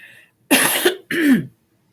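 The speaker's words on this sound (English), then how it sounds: "that cough is just lingering" Two harsh, close coughs from an adult man in quick succession, loud and isolated against near silence, with a faint murmur before them.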